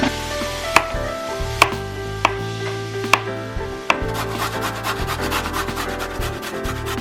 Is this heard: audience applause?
no